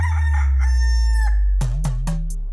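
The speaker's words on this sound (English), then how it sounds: "That is chicken." A rooster crows loudly and close, one long drawn-out cock-a-doodle-doo followed by a few short clucks, heard on its own without talk.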